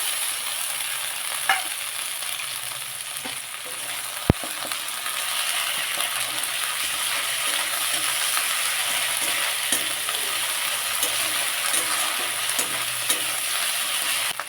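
Paste of ground garlic and ginger frying in a pan gives off a steady, close, hissing sizzle that carries on without pause, broken only by a single sharp click partway through.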